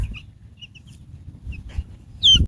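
Young meat chicks from a hatchery peeping softly in a brooder or tractor, with scattered faint cheeps and low rustling, ending in one louder, close chirp burst.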